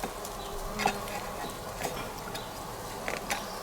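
Honey bees from a gentle colony in a Tonelli hive, a soft steady buzzing hum with a few louder passes near the microphone.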